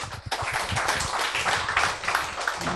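An audience breaks into dense, steady applause to welcome a guest at a lecture gathering, the clapping filling the room evenly from start to finish.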